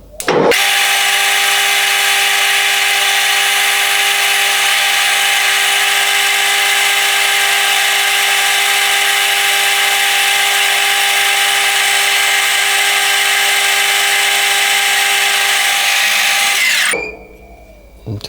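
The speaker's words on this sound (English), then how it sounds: "So what I have to do is just bore that out, just so it sort of trues it up a bit" Metal lathe boring out a metal part for a GPS mount, a steady loud whirring machine tone with a high cutting whine held for about sixteen seconds before spinning down, with no talk.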